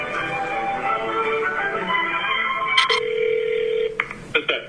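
A telephone line at the start of a recorded phone call gives a steady ringback tone, then clicks and a sustained single tone, fairly loud and heard alone without speech.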